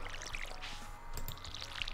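Watering crops in the Stardew Valley video game: a soft, continuous pouring splash of game water effects running steadily for a couple of seconds, fairly quiet, with no talk.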